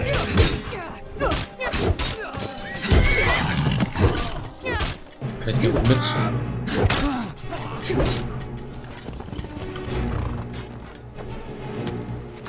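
Loud, busy game-combat audio from Skyrim, with harsh bursts and a horse's neigh and hoofbeats amid clashing effects and some speech.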